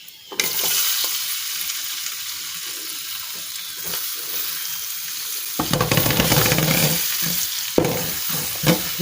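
Chopped onions fry in oil with cumin seeds for a turnip curry, giving a steady sizzle under repeated scraping stirs. The sizzle swells louder and busier after a fresh stir partway through.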